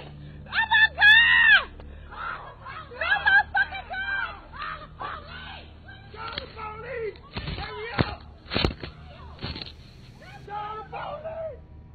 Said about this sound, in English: the audio continues on, capturing the screams of mortified bystanders.